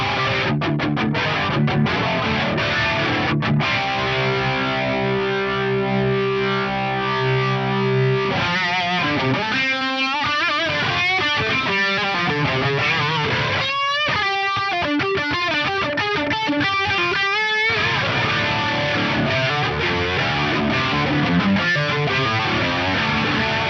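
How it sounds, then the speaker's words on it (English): Electric guitar played through the symphonic distortion effect of a Yamaha GEP 50 processor, lush and heavily distorted with chorus-like shimmer, sustained chords and melodic runs ringing loudly for the whole stretch. "Let's kick in this symphonic distortion."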